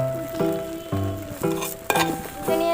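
Potato pieces sizzle in hot oil in a pan while cooking chicken khichuri, with a steady close frying hiss and repeated bursts of stirring and scraping.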